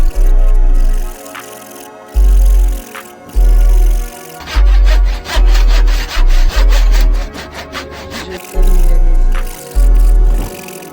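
A hand saw cuts through wood outdoors on a hot day, its rasping strokes coming in steady back-and-forth bursts with brief pauses, loud and close, with a quicker run of short strokes midway.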